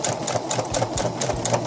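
Sewing machine stitching through a seam on a formal dress with a lace bodice and tulle and satin skirt, a steady fast mechanical rhythm of needle strokes, close and continuous with no talking.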